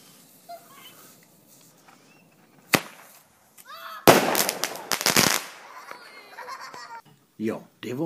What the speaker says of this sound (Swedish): Jag har fixat en liten tårta som vi ska bränna av här